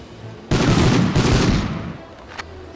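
Gunfire in the World War II shooter Medal of Honor, a dense burst of shots starting abruptly and rolling on for over a second, then fading to a low background with one faint later crack.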